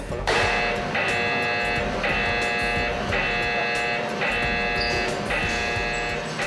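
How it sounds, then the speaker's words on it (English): A ship's smoke detector alarm sounding in repeated electronic beeps, about one per second, loud and steady over a low mechanical engine rumble. "The alarm is being activated and you see this was the peak of the smoke detection."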